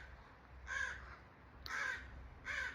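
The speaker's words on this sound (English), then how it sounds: "Look at the birds behind me." Crows cawing outdoors, three loud harsh calls close by with short gaps between them, alone over faint background hum.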